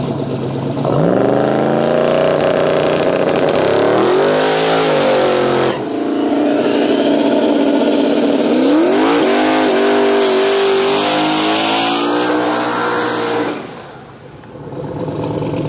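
A twin-turbo LS-powered Chevrolet Silverado drag races down a no-prep track. Its engine roars loudly and continuously, climbing in pitch through several gear shifts before fading at the end.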